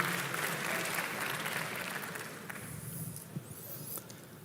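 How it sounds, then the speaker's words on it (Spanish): An audience applauding at a live talk event, sustained clapping from many hands that fades gradually toward the end, somewhat distant, with a faint squeak near the close. "Denle un aplauso al acusador."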